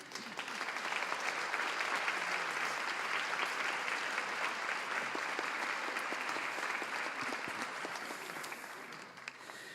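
A lecture-hall audience at a conference applauds warmly to welcome a guest speaker, steady dense clapping sustained for about ten seconds at moderate distance, with no voices over it.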